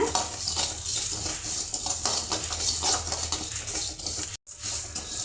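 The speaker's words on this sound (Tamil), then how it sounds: "ரெண்டையும் ஒன்றாவே கொட்டி நல்லா நம்ம வறுத்து எடுத்துடலாங்க" Cumin seeds and black peppercorns dry-roasting together in a pan while a utensil stirs and scrapes against the metal, giving steady close clinks and rustles with a brief break near the end; no one speaks.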